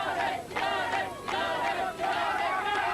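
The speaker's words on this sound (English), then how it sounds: "a good crowd have turned out to support these athletes" A crowd at a strongman competition cheers and shouts in loud, surging waves, close and dense, several bursts swelling and dipping over a few seconds.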